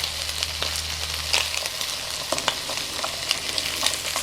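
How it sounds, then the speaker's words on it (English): Egg and bacon frying in a non-stick pan, a steady close sizzle with faint crackles and occasional light scrapes or stirring clicks, continuous with no talking. "So you can see a fair amount of egg and bacon cooking on in there."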